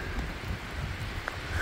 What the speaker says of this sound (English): I'm just getting drenched and the wind's blowing